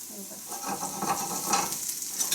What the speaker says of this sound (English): Oh, this is literally just spluttering.